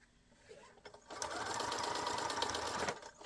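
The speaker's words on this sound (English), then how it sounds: "Sew to the corner, back 3 stitches." A sewing machine stitches binding onto a square-cornered art quilt. It runs in one steady, fast whirring burst of about two seconds, then stops, heard up close.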